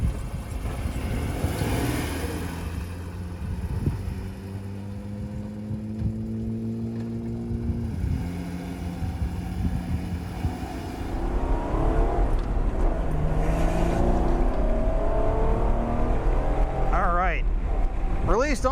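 An Acura NSX driving out onto a race track at the NSXPO 2021 event, engine droning and shifting through gears, growing louder and busier with other engine noise, with people talking over it.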